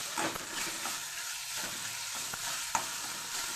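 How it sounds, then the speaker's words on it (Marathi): Onion frying in oil in a pan for okra curry, a soft, fairly faint sizzle with light stirring taps and a small clink, no speech. "चांगला कांदा परतून घ्यायचा"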